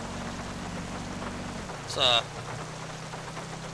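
Rain in the LSPDFR police mod for GTA V, a steady, fairly faint hiss of falling rain over a low engine hum, with a short burst of another sound in the middle.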